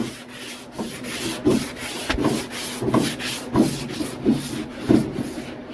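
Rhythmic back-and-forth strokes of a sanding block with 80-grit paper flattening body filler over a fiberglass rust-hole repair on a car, steady and close, about eight even passes with no talking.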